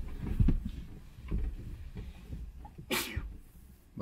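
A single sharp sneeze bursts out nearby amid quiet room noise and soft shuffling.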